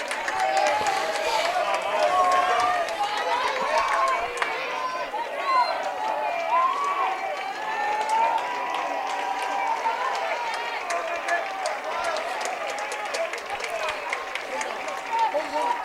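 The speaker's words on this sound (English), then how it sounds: "A lot of applause." A crowd at a high school baseball game between Westby and Viroqua applauds and cheers steadily from the stands, with a commentator's voice talking over the noise throughout.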